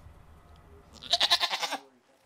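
A goat lets out a loud, wavering bleat of several quick pulses, close by, after a quiet start.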